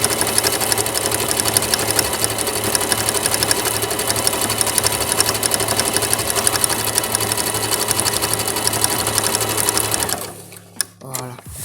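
An electronic sewing machine stitching a wide zigzag decorative stitch runs in a loud, steady, rapid whir for about ten seconds, then stops, leaving a few clicks and quiet handling.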